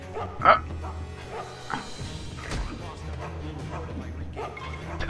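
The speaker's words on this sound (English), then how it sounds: "Oh my god, dog, shut the hell up." A dog in the stealth video game Mark of the Ninja gives short yips, barks and whimpers, close and bright, while someone talks over it.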